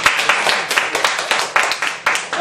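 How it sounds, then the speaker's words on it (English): A small group at a Toastmasters club meeting claps steadily and briskly at close range, a short round of applause with no talking. "Again, another round of applause to Toastmasters."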